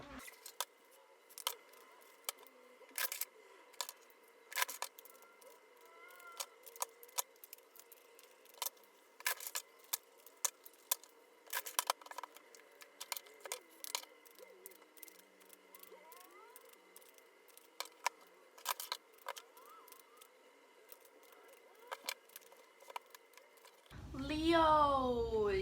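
Soft riffling and crisp snaps of tarot cards being shuffled repeatedly, close up, in short bursts with brief pauses between.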